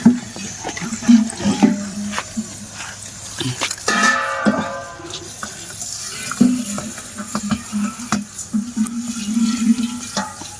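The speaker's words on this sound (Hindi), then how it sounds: "पानी भर्ती गला" Water being filled for plants in a small home garden runs and splashes continuously at close range, with a steady gushing hiss under a person talking throughout.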